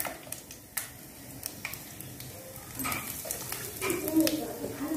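Panch phoron and asafoetida crackle and sizzle in hot oil in a pan during tempering for a broad bean and potato dish, with sharp pops and spatters over a steady fry and a voice talking alongside.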